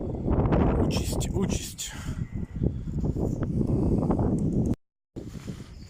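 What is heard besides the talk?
strong wind blowing outdoors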